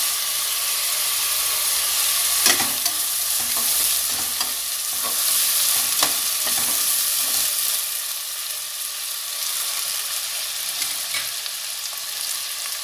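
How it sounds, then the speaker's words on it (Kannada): Chopped onions fry and are stirred in a pan for chickpea pulao, a steady close sizzle and hiss with occasional scraping clicks of the spoon against the pan. "ಹಾಗೆ ಇವಾಗ ಈ ಈರುಳ್ಳಿ ಕಟ್ ಮಾಡಿರೋ ಈರುಳ್ಳಿ ಹಾಕ್ತಾಯಿದ್ದೀನಿ."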